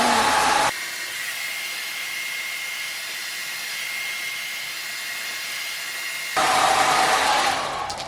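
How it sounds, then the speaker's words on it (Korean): A hair dryer blows in a steady, loud whoosh for most of the stretch, with a louder, brighter burst at the start and again near the end, as someone dries thick hair at home. "드라이기 하실 건가 봐요."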